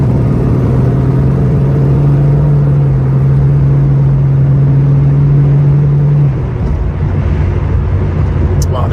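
A muscle car's engine drones low and steady from inside the cabin while driving. The hum holds evenly for about six seconds, then drops to a softer rumble.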